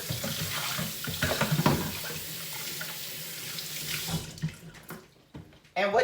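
Water runs from a kitchen tap into a sink while hands are washed under it, a close splashing flow that stutters and changes as the hands move, with brief faint voice sounds near the end.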